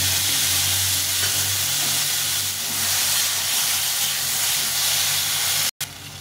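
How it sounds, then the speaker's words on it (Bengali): Water poured onto frying dried red chili paste in a pan, bursting into a loud, steady hiss of steam and sizzle close by that runs almost throughout, cut by a brief dropout near the end. "এই মশলা বাটি দিয়ে একটু জল দিয়ে দেবো।"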